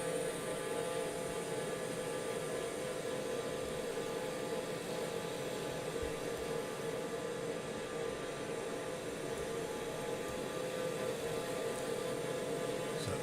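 The TBM 930 turboprop in Microsoft Flight Simulator drones loudly and evenly in cruise, a constant broadband roar with a steady tonal hum that never changes, and no one speaks.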